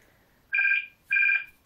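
A phone rings with two loud, clean electronic trill bursts, each about a third of a second long, separated by a short gap and heard close and alone.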